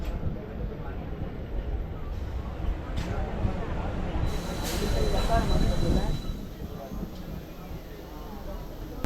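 A Chennai suburban local train slows and stops at Guduvanchery railway station, with a steady rumble of the carriage, a brief high wheel squeal, and someone talking over the noise throughout.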